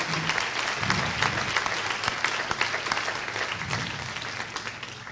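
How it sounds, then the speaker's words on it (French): An audience at a medical conference session on enhanced recovery after cardiac surgery in Marseille gives steady, sustained applause, a dense rattle of clapping that continues evenly throughout. "j'aimerais bien que vous les applaudissiez"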